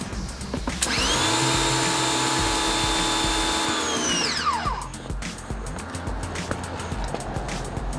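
A Ryobi 1900 PSI electric pressure washer runs with a 40-degree nozzle fitted, a loud steady motor whine that holds for a few seconds and then winds down, leaving low background rumble.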